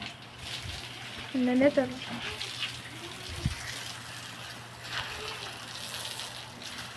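Water runs and gushes steadily at low level while a temple is cleaned, as people speak over it in bursts.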